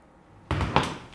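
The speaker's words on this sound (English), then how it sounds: "I'm going to give it a bunch of good whacks here." A hammer strikes a pitman arm puller on a Jeep YJ steering linkage, giving two sharp, loud metallic knocks close together after a quiet lead-in.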